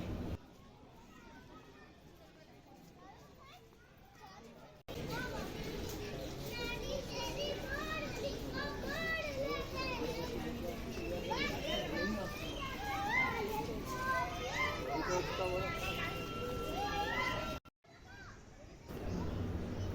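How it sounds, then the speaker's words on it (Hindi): A small child sings a melodic tune amid a noisy, bustling outdoor crowd, the singing carrying steadily for several seconds before cutting off. "इन मोर को देखकर एक छोटा बच्चा गाना भी गा रहा है"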